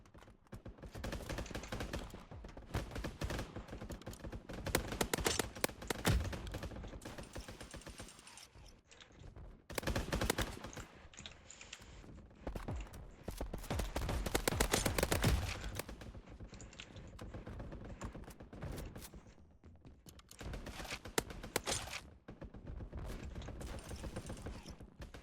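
Gunfire in the video game Mini Royale, with repeated bursts of rapid shots and clattering bangs coming and going over about twenty-five seconds, broken by brief quieter gaps and no speech.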